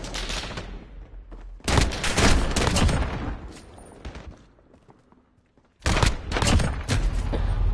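Two bots trade bursts of automatic gunfire in Modern Warfare, with loud, close volleys in two main stretches separated by a quieter lull.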